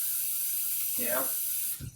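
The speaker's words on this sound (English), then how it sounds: "the reason we want the pan of water in there is it's going to help produce steam" Hot pan of water hissing and steaming inside an oven while baking sourdough bread, a steady broadband hiss with a brief sizzling surge midway and a clunk near the end.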